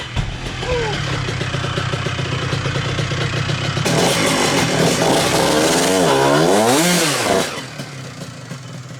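A racing dirt bike engine fitted in a home-made mini street quad runs loud and close, a raspy steady drone that swells into a revving rise and fall before settling back down.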